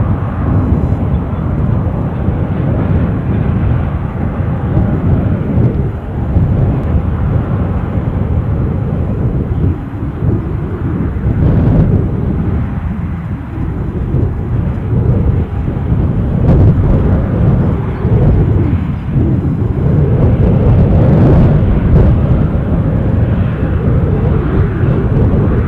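A British Airways airliner taxis at Edinburgh Airport, its jet engines giving a loud, steady, broad roar that swells slightly at times and holds for the whole stretch with no voices.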